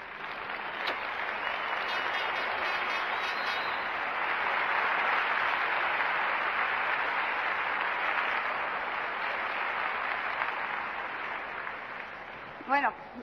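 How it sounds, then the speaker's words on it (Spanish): Sustained applause from an audience at a Spanish business presentation, a long even wash of clapping that holds for several seconds before tapering, with a brief voice near the end. "quiero pediros un fuerte aplauso"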